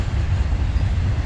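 A passing freight train in Otero County, New Mexico rumbles as a steady low roar, continuous and fairly loud with no distinct clacks and no voices.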